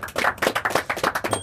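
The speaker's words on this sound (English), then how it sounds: "Let's give Mike a big round of applause." A group claps hands in a quick, uneven rhythm, close and fairly loud, for a brief burst of applause.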